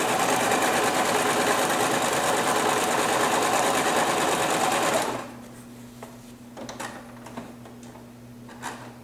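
A sewing machine stitches a cloth diaper pail liner, running loud and steady for about five seconds before stopping, followed by quiet handling clicks and rustles.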